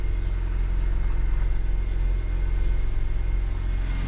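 A project car with about 91,500 miles idles steadily with a quiet, even engine rumble, heard close up with no talking.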